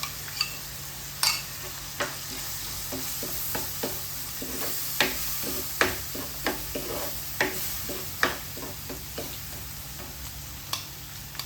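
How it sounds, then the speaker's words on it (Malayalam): Fish masala spice mix, mostly roasted ground spices, sizzles steadily as it is stirred into a hot pan, with a run of soft scraping taps from the stirring spoon over a constant frying hiss and no talking. "ഇപ്പം നമ്മൾ മിക്സ് ചെയ്ത് വെച്ച ഈ കൂട്ടില്ലേ, മസാലക്കൂട്ട് മീനിൻ്റെ, അത് ഇതിനകത്ത് പൊഴിച്ച് കൊടുക്കേ."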